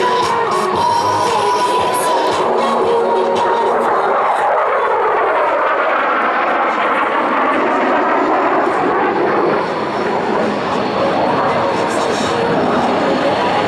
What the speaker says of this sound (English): Major Heister will accelerate rapidly and snap the F-16 through a series of aileron rolls